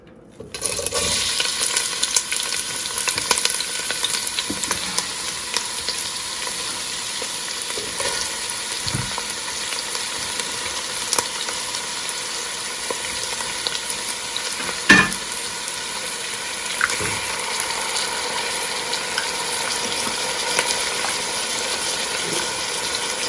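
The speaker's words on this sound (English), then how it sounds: "I'm gonna just add some oil and I'm gonna saute up my onions, peppers, and my green seasoning" Onions, peppers and green seasoning sauté in hot oil in a pot, a steady close sizzle that holds level for the whole stretch, broken by a few soft clinks and stirs.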